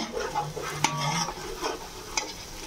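Whole spices such as clove and caraway fry in oil for a vegetable biryani, a soft sizzle under close scraping stirs, with a couple of sharp clinks of a utensil against the pan.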